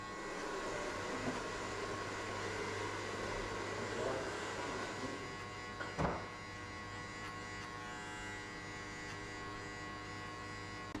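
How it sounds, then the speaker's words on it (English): An electric hair clipper runs steadily through a taper fade haircut, a constant close buzz throughout with one brief sharper click midway. "Flick the clipper like that way."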